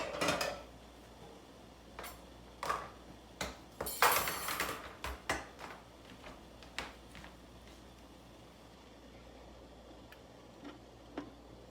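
Glass canning jars for dill pickles clink and knock as they are shifted around a counter: a scattered series of light, fairly faint taps and rattles, loudest in a short cluster near the middle, then sparse clicks.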